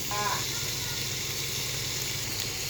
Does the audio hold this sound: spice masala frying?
yes